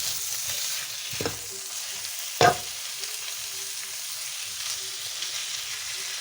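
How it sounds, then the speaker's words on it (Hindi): Mutton mince fries in a pan with a continuous close hiss and crackle, broken by a couple of sharp scraping clinks from stirring. "कीमा अच्छी तरह ये देखिए फ्राई हो गया"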